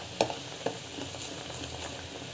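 A spoon stirs a melting coffee soap mixture in a pot, giving a couple of faint clinks against the side over a soft, steady background hiss.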